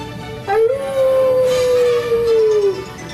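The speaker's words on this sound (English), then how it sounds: "The howls and the yodels of coyotes and cowboys" Coyote pack howling, a single long sustained howl rising then holding a steady pitch for over two seconds before tailing off, loud and close, with a faint yip before it and background noise underneath.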